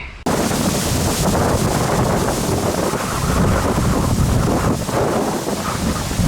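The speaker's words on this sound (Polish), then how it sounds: "jakie idzie wiatr, macie na te trzciny, jak to wieje" Strong wind gusts blow across reeds beside choppy water on a fishing trip, a loud continuous rushing roar buffeting the microphone with no break.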